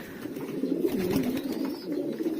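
Domestic pigeons at a rooftop loft coo in a low, soft, steady warble that rises and falls close by, quiet and unbroken over a couple of seconds.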